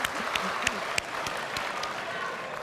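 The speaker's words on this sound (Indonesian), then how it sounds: "Boleh tepuk tangan dulu? Tepuk tangan dulu." An audience applauds at the second Indonesian presidential debate between Jokowi and Prabowo, a sustained patter of many hands heard at a distance and fairly quiet, with a few sharper individual claps standing out.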